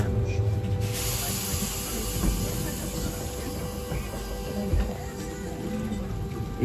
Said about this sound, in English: on one of the oldest trams in Lisbon. This is number 28